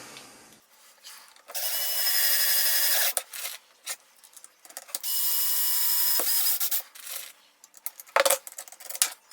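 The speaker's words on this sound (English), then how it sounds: "I'm going to go ahead and put in the rest of the screws" Screws are driven into a 3D-printed plastic OTF hidden-blade assembly with a powered driver, two sustained whirring runs of a couple of seconds each, followed by short clicks and handling knocks up close; no one speaks.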